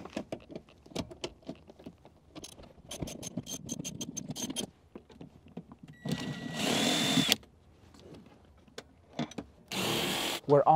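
Power tool loosening the rear seat bolts on a 2021 Toyota Sienna, in short bursts of whirring and clicking broken by gaps, with handling noises and occasional talking between bursts.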